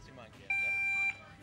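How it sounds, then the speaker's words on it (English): A steady electronic buzzer at an archery competition sounds once, holding for about half a second at a flat pitch, loud over faint outdoor background murmur. "The buzzer goes,"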